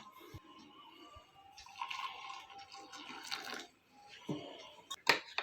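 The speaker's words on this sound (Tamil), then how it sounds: "ஒரு 1/2 டம்ளர் ஹாட் வாட்டரை இதில் ஆட் பண்ணுறேன்" Half a tumbler of hot water poured onto coffee powder in a cup, a soft, uneven liquid trickle with light clinks, moderately close and fairly quiet, swelling midway and ending in a brief sharper splash.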